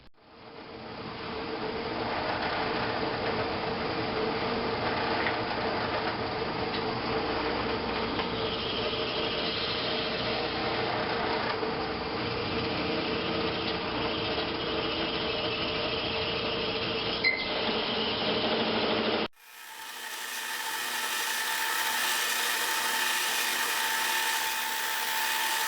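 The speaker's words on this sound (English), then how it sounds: "we got this piece of stainless here. We're going to go ahead and face." A Hardinge lathe with a six-jaw chuck facing a piece of stainless steel gives a steady, loud machining whine and grind that runs continuously, then cuts off abruptly and restarts with a slightly different tone.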